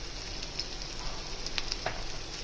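Egg curry masala with tomato puree and homemade garam masala powder fries in oil, giving a soft, steady sizzle with a few faint pops and stirring scrapes, close and fairly quiet.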